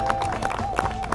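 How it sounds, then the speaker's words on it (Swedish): A crowd claps for the Volvo Trucks Driver Challenge Swedish final finalists, a short dense patter of applause with a steady tone and some voices mixed in. "Jag tycker vi avslutar med en applåd för er."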